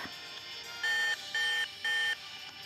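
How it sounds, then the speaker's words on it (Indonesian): An electronic siren alarm in the video game Sword Art Online Integral Factor wails in three sustained tonal bursts, evenly spaced, over a steady synthetic background drone. "Apa itu adalah suara sirine?"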